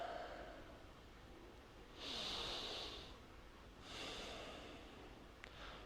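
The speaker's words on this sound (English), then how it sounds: "this is what it looks like to breathe into my belly" Slow belly breathing in a quiet room: two long, soft breaths, each a drawn-out airy inhale followed by a gentle exhale, heard close and faint with no talk.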